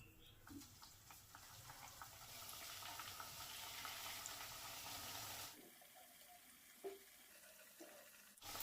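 Thekua dough pieces frying in white oil in a kadai give a steady, broad sizzle for about five seconds before it drops away to quieter pops and faint clicks.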